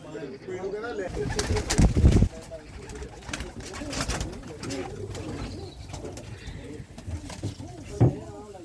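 Pigeons of a prized breed coo repeatedly at close range in a loft, with soft chirps and a brief burst of wing flapping, while someone talks over the birds.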